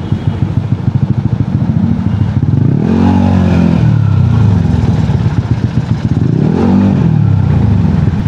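Yamaha Aerox V1 scooter engine riding on the street, a loud, close motor drone with two rising revs that swell and fall back around the third and seventh seconds, mixed with road and wind noise and no talking.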